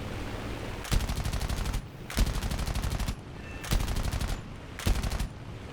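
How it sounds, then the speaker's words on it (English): Machine gun fire from the awkwardly placed guns of a B-25J-1 bomber in War Thunder, rattling in four rapid sustained bursts of about a second each, loud and close, separated by short pauses. "So not used to leading these guns because they're awkwardly placed on a B-25."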